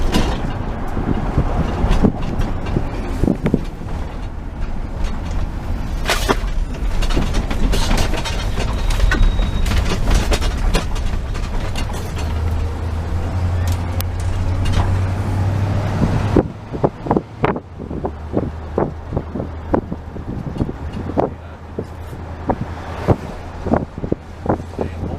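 Interior ride noise of a 1975 Oldsmobile Vista Cruiser with 270,000 miles on Montreal streets: steady wind and road rumble with creaks and rattles, shifting midway to a quieter hum punctuated by clicks and knocks.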